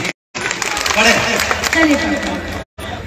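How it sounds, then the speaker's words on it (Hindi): An audience at an All India mushaira applauds to welcome a poet, a dense burst of clapping and crowd noise lasting over two seconds, with a voice speaking over it and brief silent gaps at either end. "जोरदार तालियों से राधिका जी का जो है स्वागत कीजिए"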